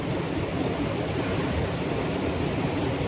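Creek water flowing steadily, a dense, even rushing wash heard up close and loud throughout, with no speech.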